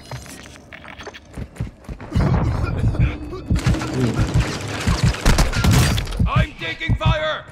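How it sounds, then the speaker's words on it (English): Gunfire in Call of Duty Warzone on the Vondel map, a loud, busy stretch of rapid shots, thuds and impacts coming in bursts, with a player's voice heard briefly amid the fighting. "I'm taking fire!"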